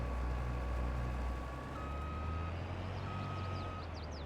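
Reversing beeps from a truck on the move in snowy weather, two long steady tones heard over a loud low rumble of engine and outdoor noise, somewhat distant.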